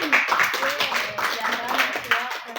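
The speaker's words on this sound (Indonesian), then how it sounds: "tepuk tangan buat semuanya" Scattered classroom clapping from a class during a micro-teaching lesson, fairly close and uneven, with voices talking over it throughout.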